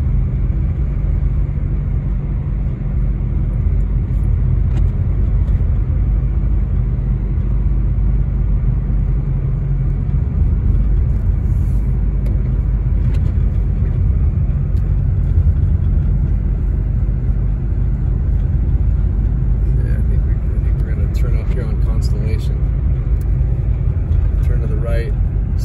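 Car driving fast through snow on a mountain road near Big Bear Lake, California, a constant loud low road rumble and engine drone throughout, with someone talking over it.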